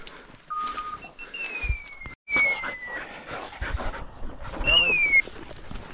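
Hunting dogs on a woodcock hunt in Epirus pant and whimper close by, with someone speaking over them and whistle-like tones in between.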